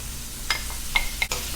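Onion, ginger, garlic and tomatoes being sautéed in a pan, a soft steady sizzle with a few short scraping stirs of a utensil, close and fairly quiet, with no talking.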